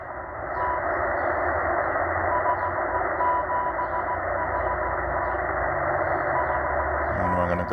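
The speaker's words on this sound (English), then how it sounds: "So this is the Russian M12 Morse code number station received" Russian M12 Morse code numbers station received on a Tecsun H-501 shortwave radio: steady dot-dash tones keyed over a dense bed of loud static hiss, continuing throughout.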